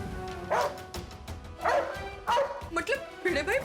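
A dog barks five or six times in quick, uneven bursts, fairly close and loud, with voices and background noise between the barks.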